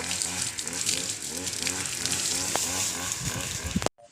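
Steady running water from a tap during hand and face washing, a continuous close hiss with a voice speaking over it, cutting off abruptly at the end.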